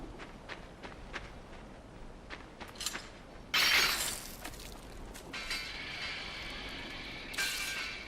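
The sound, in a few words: traps reopening after death in the video game Limbo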